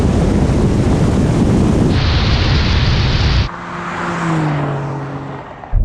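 A Porsche 911 GTS and a 450-horsepower electric Porsche launch side by side in a drag race. A loud rushing roar with heavy wind buffeting gives way to a lower engine drone with rising whine tones.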